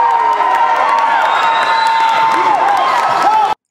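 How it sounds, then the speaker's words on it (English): OLPH supporters cheer at a school basketball game, a loud, continuous crowd roar of shouts and whoops that holds steady, then cuts off abruptly. "it was the OLPH fans who'd get to cheer first"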